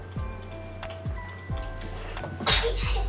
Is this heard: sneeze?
yes